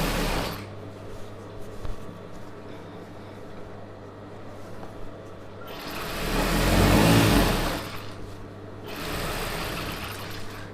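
An Usha sewing machine runs steadily while stitching a patiala pant, a continuous motor whir with a louder surge partway through, close and alone.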